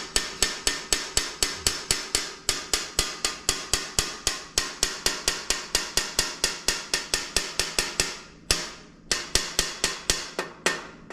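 Gentle tapping along a score line in plate glass to break it, a long run of sharp, evenly spaced taps, close and clear, with a brief pause near the end.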